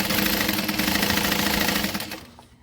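Sewing machine stitching a lining seam, a steady close mechanical whirr with rapid regular needle rhythm that runs for about two seconds before stopping.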